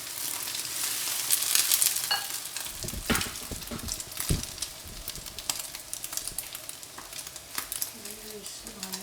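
Tomato and egg stir-fry in a hot pan, a continuous crackling sizzle with scattered spatula scrapes and clacks, louder early on, and a voice briefly heard near the end.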